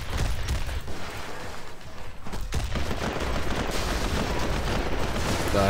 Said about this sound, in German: Daher muss ich immer ein bisschen um mich schießen.